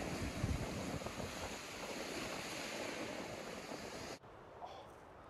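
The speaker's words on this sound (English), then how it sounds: "just listen to the sound of the ocean there" Ocean surf roaring steadily below a cliff with wind buffeting the microphone, a continuous wash of waves that cuts off abruptly near the end.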